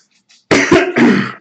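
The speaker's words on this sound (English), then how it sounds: "I seem to have a... cough going on." A person coughs twice in close succession, loud and near, preceded by a faint breath, with no speech over it.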